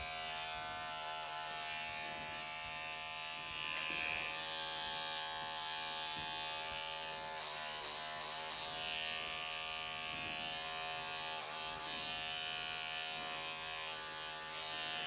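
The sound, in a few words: electric clippers grooming a Ragdoll cat's belly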